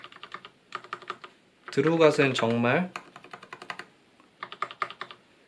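Typing on a Durgod Taurus K320 mechanical keyboard with Cherry MX Black switches, close clattering keystroke bursts before and after a short stretch of speech.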